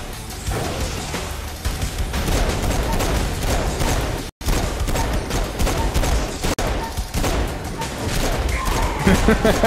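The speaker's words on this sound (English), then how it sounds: "Why did you keep shooting them after I did this?" Dense, loud gunfire rattles almost continuously in the video game Saints Row 4, bursts of rapid shots and crashes with brief pauses, while voices talk over the shooting.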